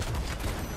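Gunfire in the video game Fortnite comes as a brief, dense and steady burst of rapid shots, moderately loud and filling the whole short moment.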